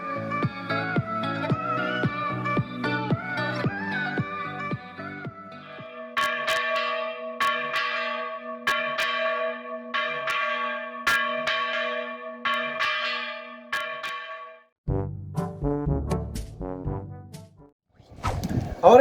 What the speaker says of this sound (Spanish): son campanas que tienen la capacidad de girar 360 grados para poder emitir sonidos muy peculiares